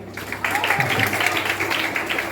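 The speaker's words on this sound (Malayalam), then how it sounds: "കൈയടിച്ച് എല്ലാരും." Students clapping at a school investiture ceremony in an indoor hall, a sustained burst of many hands applauding together, fairly steady and moderately loud, starting abruptly after a brief pause.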